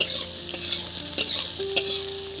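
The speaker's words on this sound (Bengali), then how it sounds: "এটা এইভাবে আমি বেশ কিছুক্ষণ নাড়তে থাকবো" Bitter gourd and potatoes being stirred in a pan, a spatula scraping and clacking at a few irregular moments over a steady, close frying sizzle, with no talking.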